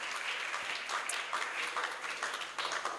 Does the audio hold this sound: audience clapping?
yes